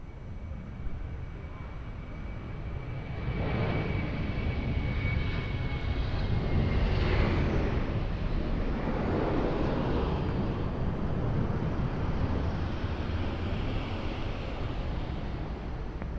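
An airplane lands on runway 02 at Lisbon Airport, its engine roar swelling from a distant rumble to a loud, broad rush and then easing off slowly.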